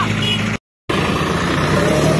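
A Swaraj 744 FE tractor reverses through mud with a loud, steady engine drone close by, broken by a brief cut in the sound before the rumble resumes unchanged.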